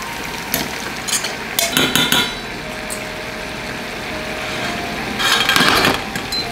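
Bacon browning in a pan for boeuf bourguignon, a steady close sizzle broken by sharp metal clinks and scrapes of stirring, louder bursts near the start and end.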